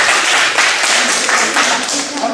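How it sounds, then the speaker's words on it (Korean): Audience applause at a Korean talk on the value of work and happiness, a dense, steady wash of many hands clapping close by that fills the whole moment, with a voice briefly mixed in. "박수도 한번 쳐주셔야 돼요."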